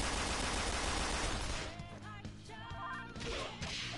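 Bullet Hell attack in Persona 5 Royal, a dense roar of rapid gunfire and crashing impacts that thins into scattered hits and whooshes, loud and close, with a voice briefly heard.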